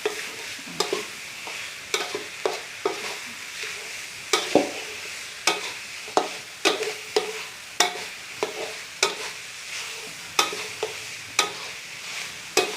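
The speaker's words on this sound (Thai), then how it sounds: "ผัดเรื่อยๆเนี่ยน้ำเริ่มไม่มีละ" Minced pork khua kling stir-fried in a pan: a spatula scrapes and turns the dry mixture in steady, repeated strokes over a faint sizzle, close and clear with no talking.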